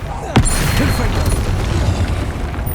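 The Confringo blasting spell in Hogwarts Legacy lands with a loud close boom near the start, followed by a rumbling, crackling explosive tail that holds steady to the end.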